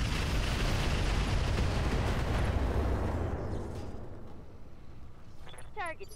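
Heavy mech weapon fire in the Roguetech video game rumbles as a thick, sustained roar of blasts and impacts that slowly fades, with a brief voice squawk near the end.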